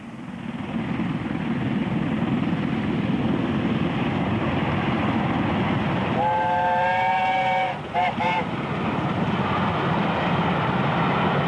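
Steam locomotive 70000 hauling a special train under overhead wires near Ely after a water stop, a steady loud rumble of the passing train with a brief multi-tone whistle blast partway through.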